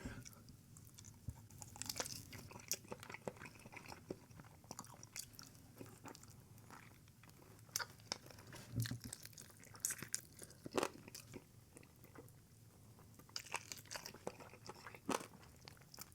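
Someone eats air-fried buffalo wings from Jets Pizza up close, with repeated crunchy bites and wet chewing in an irregular rhythm against a quiet room background.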